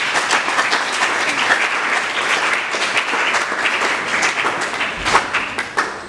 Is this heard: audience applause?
yes